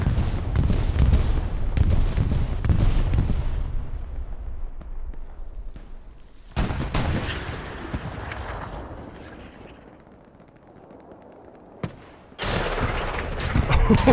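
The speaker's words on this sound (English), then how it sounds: "Oh, those rockets, man." Rocket barrages and explosions in Hell Let Loose, a 49-versus-49 World War II shooter battle near a church, with a Panzer IV and an Axis bombing run nearby: loud rumbling blasts and gunfire, a lull, then fresh booming impacts.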